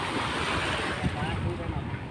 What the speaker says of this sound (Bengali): ও নদীর ঢেউটা কি!